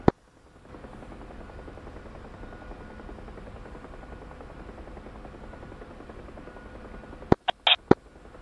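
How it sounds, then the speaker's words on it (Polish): Several UH-1H Huey helicopters in the combat simulator DCS World make a steady rotor drone at moderate level, ending with a few sharp clicks. "5 śmigłowców UH-1 po starcie"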